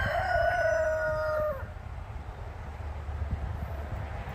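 A rooster crows once, loud and close, its call trailing off after about a second and a half, leaving a low steady background rumble.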